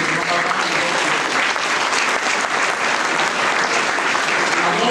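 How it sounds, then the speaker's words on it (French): Steady, dense applause from parents and grandparents fills a school gala hall, loud and continuous throughout without a break. "Vous méritez également un applaudissement des parents et des grands-parents."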